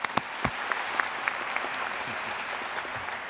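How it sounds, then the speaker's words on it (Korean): Applause from an audience at a Korean defense strategy committee event with the president, a steady broad wash of clapping lasting a few seconds with a few sharper claps near the start. "경주의 박수 부탁드리겠습니다"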